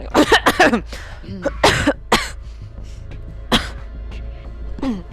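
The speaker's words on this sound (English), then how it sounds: "Just pretend like you coughed." A person coughs repeatedly during a Star Wars tabletop role-playing session: about six close, loud, harsh bursts that come in quick clusters with short gaps, plus some throaty clearing between them.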